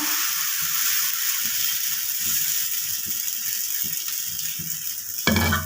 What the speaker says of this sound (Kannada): ತವಾ ಬಿಸಿ ಆಗಿದೆ ತವಾಗ ಸ್ವಲ್ಪ ಎಣ್ಣೆ ಹಾಕೊಂಡಿದ್ದೀನಿ ಈ ಥರ ಹುಯ್ಬೇಕು